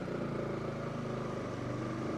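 A new motorcycle being ridden on a short trip around Gazipur, its engine droning steadily and fairly loud throughout, with no voices over it.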